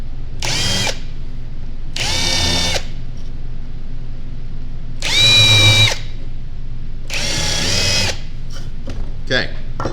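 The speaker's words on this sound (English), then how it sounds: "Now I'm going to countersink them." A power drill countersinking screw holes in a wooden birdhouse, four close, loud whirring bursts of about a second each separated by pauses, followed by a few brief clicks.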